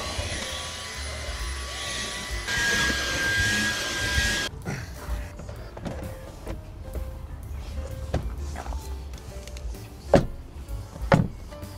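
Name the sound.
vacuuming a car interior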